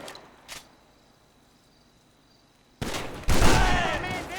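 A double-barrel shotgun fires in GTA Online: two loud, close blasts in quick succession break a near-silent stretch, after a couple of faint earlier shots.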